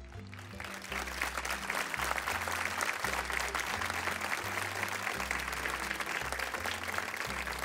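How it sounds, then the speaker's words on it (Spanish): Sustained audience applause for a singer on a variety show washes steadily over a pulsing low music bed that plays underneath throughout. "Un fuerte aplauso para ella."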